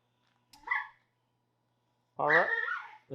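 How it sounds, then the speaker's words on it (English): A small dog close by gives two barks against near silence, a short yip first and then a longer whining bark, followed by a brief third sound. "we got a little doggy in the background"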